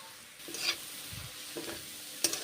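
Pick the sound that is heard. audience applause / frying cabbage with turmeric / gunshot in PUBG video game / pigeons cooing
frying cabbage with turmeric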